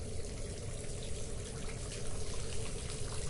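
Water trickles steadily and fairly close in a game setting, a continuous broadband wash of running liquid with no voices over it.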